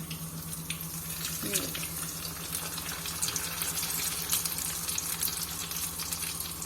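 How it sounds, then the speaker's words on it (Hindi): Peri peri cheese bites frying in oil over medium heat, a dense, even crackling sizzle that holds steady at moderate loudness, with a faint low hum underneath. "और अब इसको मीडियम हीट पे हमने फ्राई करना है 7 से 8 मिनट।"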